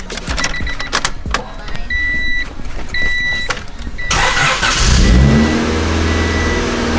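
Honda Civic on its first drive pulling away hard, a mid-pitched engine revving up loudly and rising in pitch near the end, with small mechanical clicks and whirs before the acceleration.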